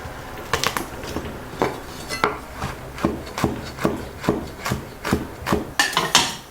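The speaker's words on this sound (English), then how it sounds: "Crush a few cloves of garlic and then coarsely chop." A knife chops crushed garlic cloves on a cutting board for a Chinese-style asparagus sauce: a close series of sharp, slightly uneven knocks, about two per second, with no talking.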